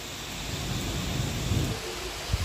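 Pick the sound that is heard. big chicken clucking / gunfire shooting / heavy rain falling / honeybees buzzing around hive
heavy rain falling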